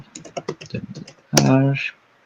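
Rapid, close keystrokes on a computer keyboard, a French layout, rattle out in a steady run while porting ROS software, then stop as a short spoken voice follows.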